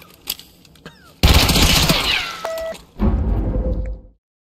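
A gun fires in Escape from Tarkov in loud, sustained automatic bursts: a long rapid volley, a short break, then another burst. Sharp high-pitched tones and whine-like sounds mix in, and the firing stops abruptly.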